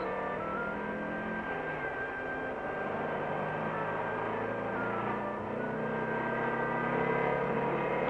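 Porsche 356 running under load through its gears on a factory test machine, a steady, continuous engine drone with gentle pitch shifts as gears change, close and alone without talk.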